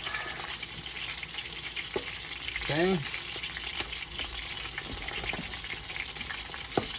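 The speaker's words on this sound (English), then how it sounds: "It'll cut down on all that splashing of all that juice hitting that hot grease." Juice spattering into hot grease in a frying pan gives a steady, moderately loud sizzle and crackle throughout, with a brief louder burst near the middle and a single short word spoken.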